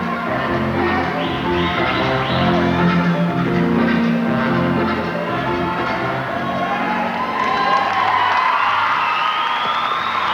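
A large crowd cheering and shouting at the 1990 Australian Dancesport Championship, loud continuous whoops and yells with music playing beneath, sustained throughout.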